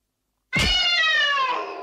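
A person imitates a cat's meow with the mouth: a single drawn-out, close and loud nasal meow that starts suddenly and slowly fades, with no other sound around it.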